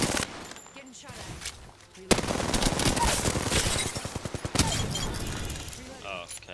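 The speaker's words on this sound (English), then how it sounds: "Getting shot at." Bursts of automatic gunfire from an Apex Legends firefight, loud and dense from about two seconds on, with rapid repeated shots and a voice talking over the action.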